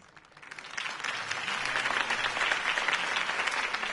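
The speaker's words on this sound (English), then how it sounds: "If only Mr. Wayne, my campaign's largest backer, could have heard that applause" A crowd claps after a campaign speech in the Batman Telltale video game, the dense applause swelling from quiet to a full, sustained roar.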